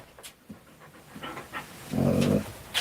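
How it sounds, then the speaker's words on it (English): A big female German Shepherd pants steadily up close with quick, soft breaths, ending in a short whimpering vocal burst. "Big dog. Yeah, she is a big puppy."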